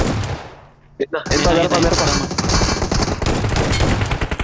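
Rapid gunfire bursts from a PUBG Mobile match in Ultimate Royale, loud and dense, with a sharp shot near the start and then continuous firing under excited players' talk.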